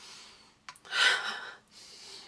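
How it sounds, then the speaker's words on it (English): A few quick nasal sniffs followed by a longer, breathy inhale close to the ear, with no talking. "I keep sniffing it."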